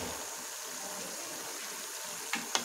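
Water is poured into a pan of Udupi-style chicken sukka, giving a steady gushing hiss throughout that ends with a couple of sharp clicks.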